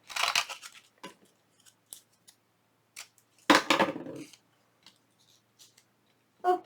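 Scissors trim paper and cardstock in a craft project, giving crisp close snips in short bursts separated by quiet pauses, one longer cutting run in the middle.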